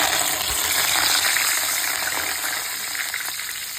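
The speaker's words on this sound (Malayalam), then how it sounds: "ഉള്ളിയും പിന്നെ കറിവേപ്പില ഇപ്പോൾ പൊട്ടിത്തെറിക്കും ചെറിയ പൊട്ടിത്തെറിക്കും" Onion and curry leaves frying in hot oil in a pan, a loud, continuous sizzling hiss with faint scattered spluttering heard close up.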